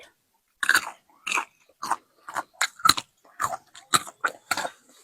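Chewing on a spicy Lao-style dish of beef and liver, about a dozen close, crisp crunchy bites in an irregular rhythm with silence between them.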